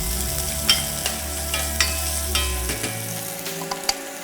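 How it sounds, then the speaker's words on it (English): Onions, garlic and ginger sizzling in smoking-hot oil, a dense, steady crackle with scattered sharp pops and light stirring taps, close up with no voices. "The oil is starting to smoke. I'm going to add the onions, garlic and ginger."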